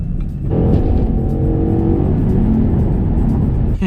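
A 2012 Ford Mustang pulls away and accelerates hard, its engine note rising into a loud, steady roar with tyre and road noise, heard close from inside the car without talking.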